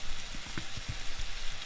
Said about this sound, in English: This plate's got hot and sizzling.